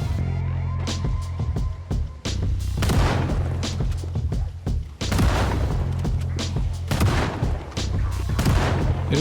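Shotgun blasts in the zombie survival game Project Zomboid, a series of loud, booming shots at irregular intervals over a steady low game hum, with a short lull partway through and no talking.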